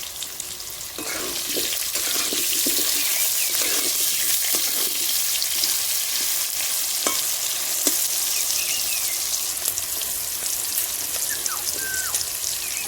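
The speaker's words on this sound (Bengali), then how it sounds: "এবার ডুবো করে কেটে রাখা আলুগুলো ভেজে নিচ্ছি" Cut potatoes deep-frying in hot oil, a loud, dense, continuous sizzle and crackle close by, with occasional stirring clinks and no talk.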